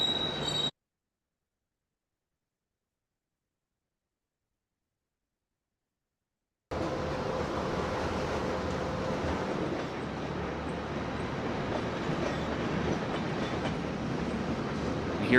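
A manifest freight train rolls along railway tracks, with steady wheel rumble and clatter from about 6.5 seconds to the end after a brief sound at the start and a long silent gap. No voices are heard.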